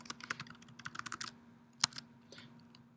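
A queue name is typed on a computer keyboard in a quiet room: a quick run of close, crisp keystrokes, a pause, one louder key hit, then a couple of softer taps.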